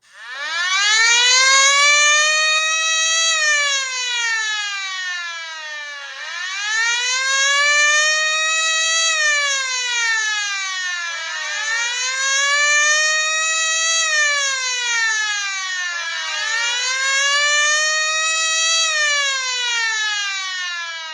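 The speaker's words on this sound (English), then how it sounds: "His red light flashed and his siren continued to blare." A fire engine siren blares loud and close without a break, its pitch rising and falling in long repeating sweeps with no voices over it.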